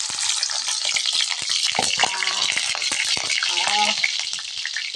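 String beans frying in a hot pan with oil, a loud steady sizzle and crackle with occasional stirring clatter, continuous throughout without talk.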